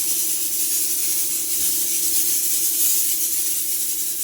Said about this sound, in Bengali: তো দেখতেই পাচ্ছ তেল মারা হচ্ছে